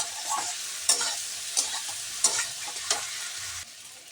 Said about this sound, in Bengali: তো আমি সামান্য পরিমাণে লবণ আর হলুদ দিয়ে আমি বেগুনটাকে সুন্দর করে ভেজে নিচ্ছি